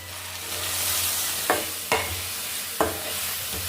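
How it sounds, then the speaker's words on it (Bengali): Chicken bharta masala with tomato being stirred in a sizzling pan, a steady close fry hiss broken by three distinct spatula scrapes against the pan, no talking. "এবার সমস্ত উপকরণগুলি ভালো করে মিশিয়ে নেব।"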